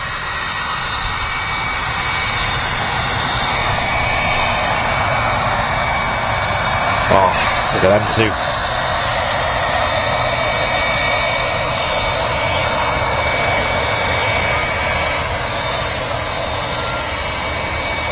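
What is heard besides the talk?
Jet2 Airbus A330 with Rolls-Royce RB211 engines taxiing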